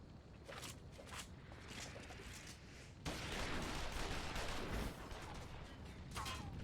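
Gunfire and shooting action in Final Fantasy XIV, a dense, continuous battle-like wash of shots and mechanical clatter that swells louder halfway through, with no speech.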